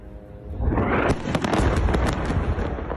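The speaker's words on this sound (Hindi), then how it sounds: "इजराइल का हमास पर मिसाइल अटैक, हमास के सेंट्रल कमांड सेंटर को तबाह कर दिया गया।" An Israeli missile strike on Central Gaza produces a heavy, booming blast that swells into a long rumbling roar with crackling bursts. It is loud and sustained with no talk.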